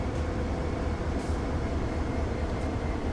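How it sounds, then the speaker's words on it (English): Steady rumble of BNSF locomotives idling or rolling nearby in the Train Sim World 5 San Bernardino Line, a dense low drone with faint brief higher hiss, continuous and alone. "Some BNSF locos."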